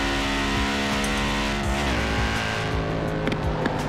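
An Audi Quattro engine revs and shifts through the gears in Forza Horizon 4, loud and steady, with a brief tire squeal under the constant drone.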